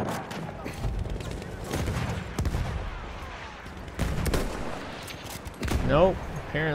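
Rifle shots crack at irregular intervals during a Battlefield 1 multiplayer match, each a sharp burst over a busy battlefield bed, with a voice briefly speaking near the end.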